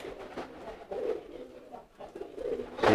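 Low pigeon coos repeat softly in a gentle rhythm, fairly close, with faint rustling around them and no speech.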